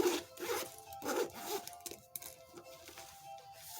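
A zipper on a purse's front pocket pulled open in several quick rasping strokes, close up, with short pauses between pulls.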